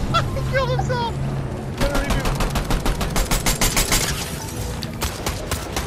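Rapid automatic gunfire in a shooter video game, a long run of sharp, evenly spaced shots up close, with excited voices talking over the start before the burst takes over.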